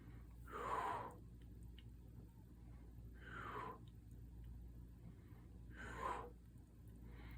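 Three forceful breathy exhales from a person, spaced a few seconds apart, each a short rushing burst standing alone over a low steady background hum, fairly close but soft.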